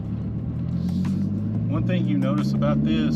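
A 2017 Dodge Viper GTC's engine holds a deep, steady low rumble with a slowly rising pitch, heard under someone talking throughout.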